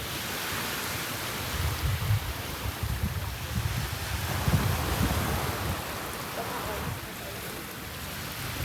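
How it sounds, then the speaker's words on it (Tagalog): Sea waves at high tide wash steadily onto White Beach in Boracay on a morning with a higher sea, making a broad, continuous hiss with gentle low surges and no clear speech. "Medyo mataas pa yung dagat, high tide sa umaga."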